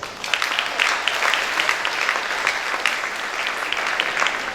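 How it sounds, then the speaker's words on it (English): Warm applause from a crowd at a secondary school graduation ceremony honouring parents and families, dense continuous clapping from many hands, moderately loud and steady. "Let us give them a warm round of applause, please"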